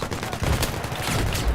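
Brief burst of gunfire in Battlefield 3 during a firefight, dense crackling shots under a constant wash of battle noise, loud and close.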